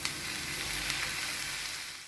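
Tomatoes fry in a pan for eggplant chutney, with a close, steady crackling sizzle that fades slightly at the very end.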